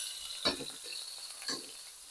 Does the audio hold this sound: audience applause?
no